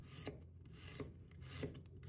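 Kitchen knife slicing through a piece of peeled fresh ginger on a board, three quiet, evenly spaced crisp cuts with a soft rasping texture, close and alone.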